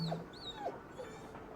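A dog in the video game Ghostwire: Tokyo gives a few soft, high whimpers and whines in close succession, fairly quiet and set against faint game ambience.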